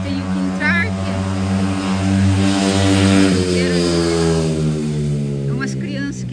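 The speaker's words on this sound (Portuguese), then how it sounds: "umas crianças que andam de moto por aqui fazendo barulho" A nearby motorbike ridden by children drones loudly and steadily, its pitch rising slightly midway, while a voice speaks briefly over the noise, in the Miami area after Hurricane Helene.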